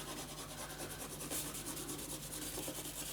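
Glued paper being burnished down by hand on a spooky-season pop-up mini album, a close, continuous soft rubbing with a rhythmic scratchy texture.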